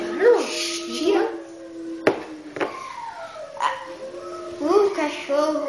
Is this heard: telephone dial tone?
no